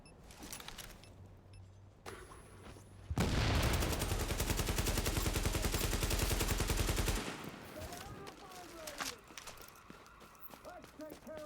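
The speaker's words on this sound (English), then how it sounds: "I'm going to toss a grenade at these guys." Grenade blast and heavy gunfire in The Division's Dark Zone: a sudden loud, dense burst of rapid shots and explosion lasting about four seconds, framed by quieter scattered game noise and footsteps.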